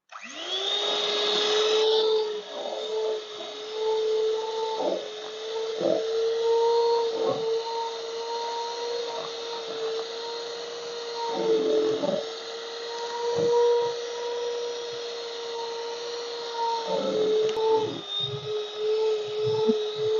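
A handheld electric beater whips margarine and sugar into cake batter, a steady high motor whine that holds for the whole stretch, with soft thumps and scrapes as the beaters move through the bowl.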